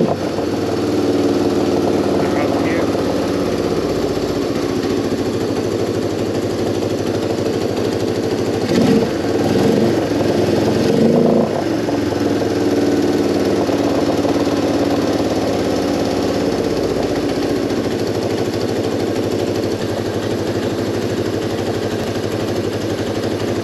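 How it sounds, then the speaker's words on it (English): A motorcycle engine idles steadily and close by after its carburetor idle screw was adjusted, a continuous mid-pitched drone with a brief stronger pulse about two thirds of the way through and no talk. "the idle sounds like it's kind of dropping down a little bit"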